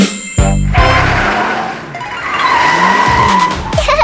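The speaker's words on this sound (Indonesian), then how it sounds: "Sebuah mobil perlahan memasuki lorong sekolah" A toy car drives into a school hallway: a sharp tire squeal and skid, then a steady rushing engine-like whir that swells and fades, loud and close with no talk.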